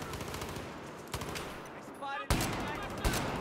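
Rapid gunfire crackles in Battlefield 4 multiplayer from the Unica pistol, a run of close, sharp shots with a couple of louder bursts near the end, layered over busy game noise.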